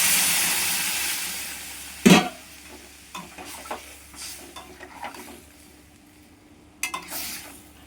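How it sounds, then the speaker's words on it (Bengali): Water poured into a hot pan of magur fish curry with raw banana, giving a sharp sizzling burst followed by softer intermittent hissing and bubbling bursts. "এবার আমি জল দিয়ে দিব।"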